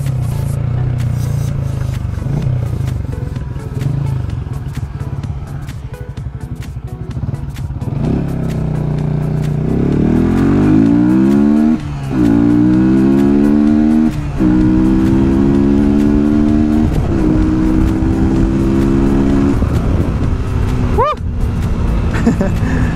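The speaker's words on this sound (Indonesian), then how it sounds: "Ini full suara knalpot Yamaha R25 di motor New Fiction." A Yamaha New Vixion motorcycle fitted with a Yamaha R25 exhaust idles, then revs repeatedly with rising, throaty exhaust bursts, loud and close, with a voice speaking briefly over it.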